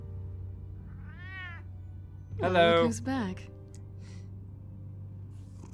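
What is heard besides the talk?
cat meowing and purring in Batman: The Telltale Series video game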